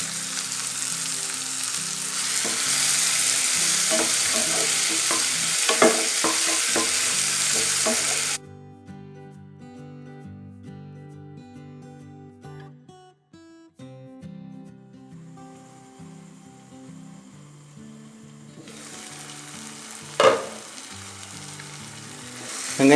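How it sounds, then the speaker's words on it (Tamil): Onion, tomato and salt sauté in a pan for a spicy kara chutney, giving a loud, close sizzle with a few stirring scrapes. The sizzle then drops to a softer hiss under background music before swelling again near the end. "இப்போ இந்த சட்னிக்கு தேவையான அளவு உப்பு சேர்த்து நல்லா வதக்கலாம்."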